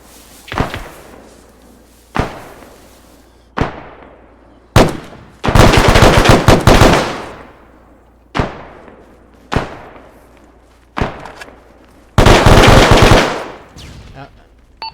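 Gunfire in a military squad training video game rings out as sharp single shots spaced a second or two apart, with two longer bursts of rapid automatic fire, loud and close, no talking.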